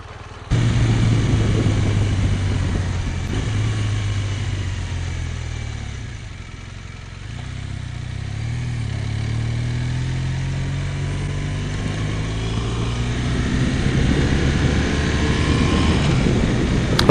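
A motorcycle engine drones steadily while riding, a low continuous hum with shifting pitch as speed changes, close and fairly loud throughout with a brief dip midway.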